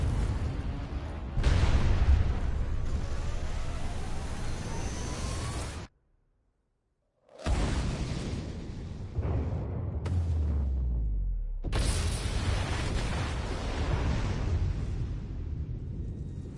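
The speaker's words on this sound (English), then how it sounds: "Is that a giant cannon?" Deep, sustained rumbling booms from a giant cannon in the Tales of Arise video game, long heavy blasts broken by a brief silence, loud and close with a low descending tail.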